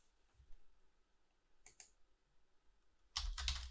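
Quick bursts of keyboard typing entering text into a charting program on a computer, a faint click near the start of the stretch, then a denser, louder flurry of keystrokes at the end, with no one speaking.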